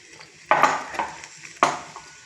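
A spoon stirs jaggery rice with crushed cardamom in a metal pot, giving a few sharp scraping clinks at uneven intervals, close and fairly quiet, with faint ringing between strokes.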